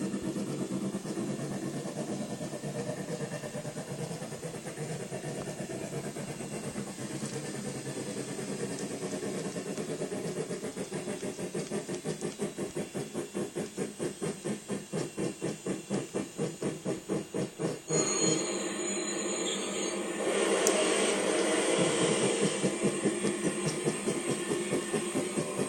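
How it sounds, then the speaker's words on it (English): Meadow River Lumber Company Shay #7, a geared logging steam locomotive, runs with a steady hiss of steam and rapid rhythmic chuffing that quickens into dense pulses, with a sharp burst of escaping steam near the end. "a Shay geared logging steam engine was the engine of choice"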